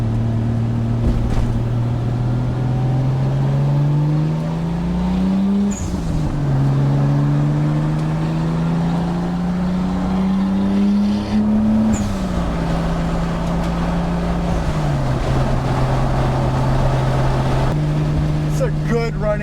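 A Toyota Supra's 7M turbo engine runs with raised boost, its steady, loud drone rising and falling in pitch as revs sweep up and settle, with a rough mechanical hum throughout.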